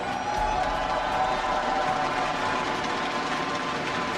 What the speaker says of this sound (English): Thanks for cheering, all of you.